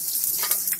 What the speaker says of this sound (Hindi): तेल गर्म हो चुका है, सबसे पहले मेथी डालेंगे, उसके बाद में हींग